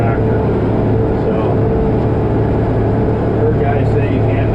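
A modern hydrostatic tractor drags an old two-bottom plow through a rough field, its engine droning loud and steady throughout, with a voice partly over the noise.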